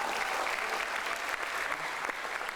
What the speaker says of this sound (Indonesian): berikan tepuk tangan yang paling meriah untuk Dokter Alvin ya.